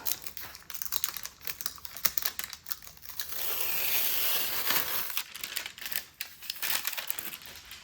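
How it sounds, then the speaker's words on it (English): Paper backing peeled off fabric for homemade book cloth, a soft crinkling rustle with scattered small crackles and one longer steady tearing stretch in the middle, close but quiet. "then you can just pull the paper backing off"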